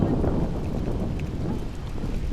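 Strong, cold wind off Lake Erie in Cleveland buffets the microphone with a constant low roar, loud and unbroken.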